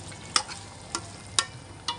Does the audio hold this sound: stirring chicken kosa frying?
yes